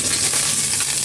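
Steady, close hiss of hot oil sizzling in a heated wok, ready for frying garlic, a continuous crackling wash with no voices.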